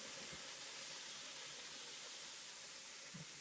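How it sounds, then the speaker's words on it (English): Pork tenderloin, jerk-seasoned, searing in a smoking-hot pan, giving a steady, soft broadband sizzle and hiss that stays even throughout with a couple of faint low clunks. "Let's go ahead and add the pork to the pan."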